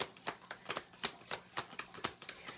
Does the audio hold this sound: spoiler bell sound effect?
no